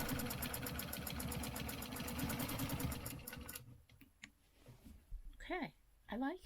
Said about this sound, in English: Just use the ruler and stitch my circle.